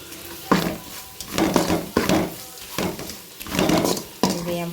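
A utensil stirs rice mixed with turmeric and salt in a pan, giving repeated scraping, clattering strokes in an even rhythm, up close and fairly loud with a faint sizzle.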